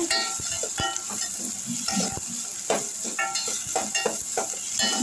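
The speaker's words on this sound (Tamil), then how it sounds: "நல்லா இந்த மாதிரி வதக்கி விட்டுக்கோங்க" Onions sautéing in a pan for tomato rasam, a steady close sizzle broken by sharp clinks and scrapes of stirring, with no talking.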